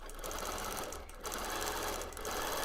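A sewing machine free-motion quilts an entire quilt edge to edge, its needle running in a steady, close, continuous whir with only slight changes in pace.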